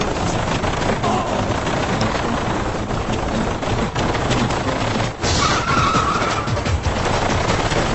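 Rapid gunfire rakes a car in an over-the-top Indian film action scene, dense bursts of shots mixed with screeching and crashing, loud and continuous with no pause.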